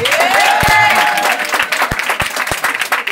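A church congregation applauds, a dense burst of clapping over a rising shout of voices, then thinning into scattered individual claps.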